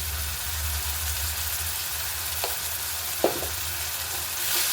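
Fenugreek leaf pulao ingredients sizzle and fry steadily in a pan while being stirred, with a couple of soft scraping clinks from the spoon against the pan, close and continuous.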